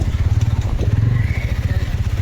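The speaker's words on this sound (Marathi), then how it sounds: "बघा आपली गाडी कशी पळून राहिली." A motorcycle rides smoothly along a city road, its engine giving a steady pulsing drone close by for the whole stretch with no voices over it.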